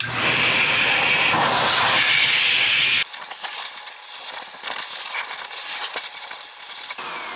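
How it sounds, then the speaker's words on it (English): A loud, steady rush of air from an air dryer hisses and roars continuously, shifting in tone as it blasts water off the wheels of a 2020 Dodge Charger Hellcat Widebody nearby. "So let's go ahead and use that air dryer now."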